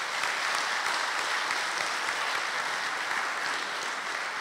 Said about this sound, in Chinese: 给他们掌声。